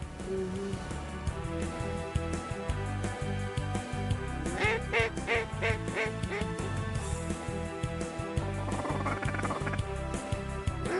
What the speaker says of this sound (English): Look at all those ducks above that tree line.